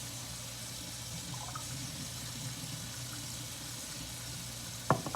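Water runs from a kitchen faucet while cinnamon rolls are being prepared, a steady soft hiss lasting several seconds that ends with a brief clatter.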